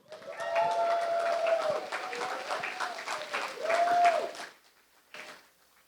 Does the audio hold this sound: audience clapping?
yes